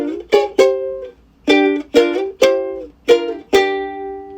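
A ukulele plays a riff as three- and four-string chords on the high strings, seven bright plucked hits in a halting rhythm, close and clear with no voices.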